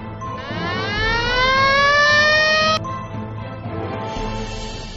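A police car siren rises in a loud, sweeping electronic wail, then cuts off abruptly and gives way to a quieter rumble.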